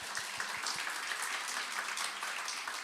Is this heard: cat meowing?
no